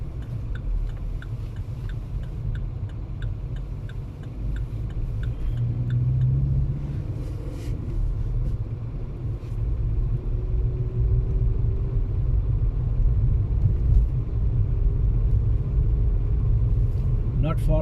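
A car driving through Doncaster streets in the UK, its steady engine rumble and road noise continuous and close throughout, with a faint ticking indicator early on and someone talking over it.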